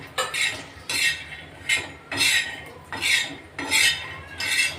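Peanuts dry-roasting in a pan are stirred in a steady rhythm, about six scraping, rattling sweeps close by with no talk.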